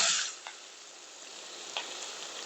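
Chillies, curry leaves and onion sizzling in hot tempering oil in a heavy pan on an induction cooktop, a bright hiss that flares loudly at the start, then settles into a steady fizz with a couple of faint pops.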